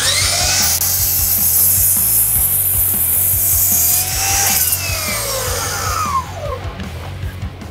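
A powered miter saw fitted with a Bosch blade cuts through wood. The high whine and rasping bite of the blade are loud and close, easing off as the cut finishes and the motor spins down.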